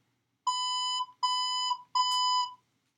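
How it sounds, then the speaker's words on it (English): Three electronic beeps of Morse code sound from the Unlock! The Elite game app on an iPad, each a clear, sustained tone of roughly half a second separated by short gaps, in otherwise silence. "That was 3 beeps. Oh, it's fucking Morse code."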